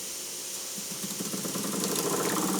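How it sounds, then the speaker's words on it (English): A Jensen oscillating toy steam engine runs steadily, with a soft mechanical chuffing and rattling that grows slightly busier after the first second and continues without any talk. "this is a Jensen oscillating engine"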